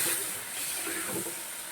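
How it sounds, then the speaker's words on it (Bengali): Steamed spinach paste hits hot spiced oil in a kadai and gives off a steady, broad hiss of sizzling that holds evenly for its whole length, with no talking over it. "এখানে ভাপ দিয়ে পেস্ট করে রেখেছিলাম পালং, তা দিয়ে দিচ্ছি। অল্প ভাজবো।"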